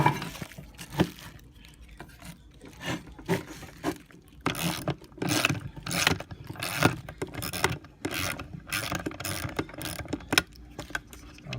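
A ratchet clicks in quick, uneven bursts while a 10 mm bolt is loosened on a Ford Mustang, close and fairly loud, with metallic rattles and handling noises between the runs.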